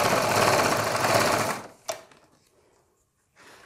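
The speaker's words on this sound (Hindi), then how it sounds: "फिर इसे पाइपिंग को बराबर से बिठाते हुए आप इस पर भी सिलाई लगा दें" A sewing machine runs in a steady, loud continuous whir while stitching piping along a kurti neckline, then stops abruptly, leaving a brief click and near silence.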